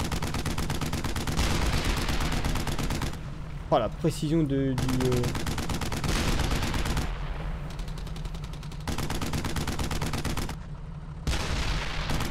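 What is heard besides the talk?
cannon fire in the video game Brothers In Arms: Hell's Highway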